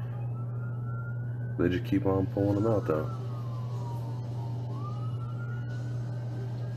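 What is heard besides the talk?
ambulance siren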